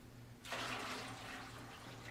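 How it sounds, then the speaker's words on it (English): Cool, clean drinking water pours into an empty pail, filling it to a starting depth for mixing: a steady broadband splashing rush that starts abruptly and carries on loud and close over a low background hum. "cool, clean, potable, fresh water to the empty pail and filling it to a starting depth of 4 inches"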